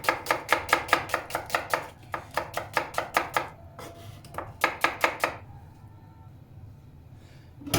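A knife chops onions on a board for a Turkish piyaz salad, quick regular thuds in two bursts with a short pause between, close and crisp, then the cutting stops.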